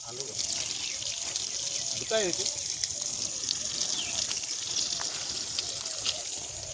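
Water poured onto potato plants and other vegetables in a home garden, a continuous close splashing trickle with a brief voice and faint background chatter over it.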